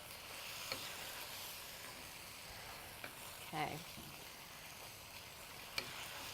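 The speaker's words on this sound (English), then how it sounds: "So you can hear that that's still sizzling away." Beef mince with plum and oyster sauce for a noodle stir-fry sizzles steadily in a pan, a quiet, even hiss throughout with a few faint clicks and a brief spoken word.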